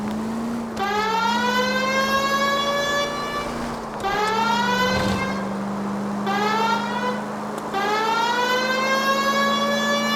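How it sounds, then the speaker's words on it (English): A police car siren in the L.A. Noire video game wails loudly and continuously, cycling through rising sweeps over a steady engine drone, with no talk. "Why aren't you using the siren?"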